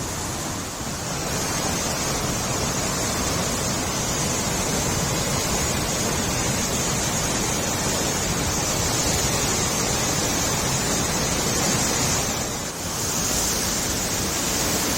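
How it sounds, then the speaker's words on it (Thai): Li Phi waterfall on the Mekong River at Don Khon in southern Laos, a loud, constant roar of rushing water filling the whole stretch with only a brief dip near the end. "นี่เป็นน้ำตกแต่ธรรมชาติแม่น้ำของ"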